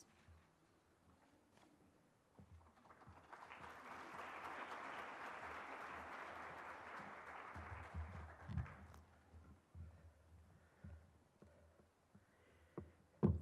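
Audience applause at an awards celebration for star performers, a soft crowd clapping that swells, holds for several seconds, then tapers into scattered claps and room noise.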